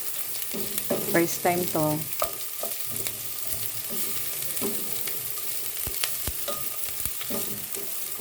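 Garlic and onions being sautéed and stirred in a pan for Filipino kare-kare, a soft steady sizzle with scraping stir strokes close by, a voice speaking briefly over it.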